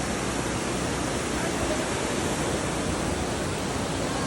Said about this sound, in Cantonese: 而家變成最大嘅瀑布